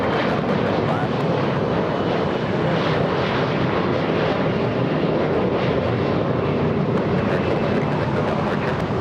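A Singapore Airlines airliner at LAX airport produces a loud, continuous broadband jet roar with some wind buffeting, sustained evenly throughout without pause.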